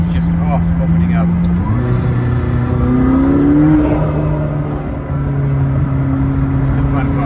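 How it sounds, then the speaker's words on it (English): A 2020 McLaren 620R's turbocharged engine drones loud and close, shifting pitch as it accelerates, with a soft whoosh from the wastegate opening and someone talking over it. "Just a whoosh. Yeah, that sounds nice. The wastegate's just opening up."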